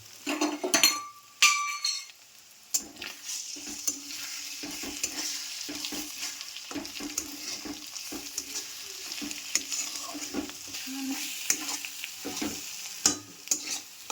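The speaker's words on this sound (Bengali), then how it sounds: "এবার ভালো করে নাড়াচাড়া করে নেবো" Egg-potato bhujia with chopped green chillies sizzles steadily in a pan while a spatula scrapes and stirs it in irregular strokes, after a few sharp metallic clinks at the start.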